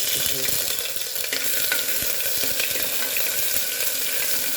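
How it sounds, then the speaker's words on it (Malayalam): A teaspoon of ginger garlic paste sizzles in hot oil in a pan, a loud continuous crackling hiss with occasional stirring clinks, close up and steady throughout, with no talking. "നമ്മളെ എണ്ണ നമ്മുടെ ചൂടായിട്ടുണ്ട് ഇനി നമുക്കതിലേക്ക് കുറച്ച് ഒരു ടീസ്പൂൺ ഇഞ്ചി വെളുത്തുള്ളി പേസ്റ്റ്"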